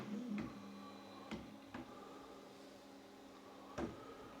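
A 3D printer begins printing a flexible filament gasket, giving a quiet steady hum with a faint motor whine and a few sharp ticks and clicks at irregular intervals, close by and with no voices.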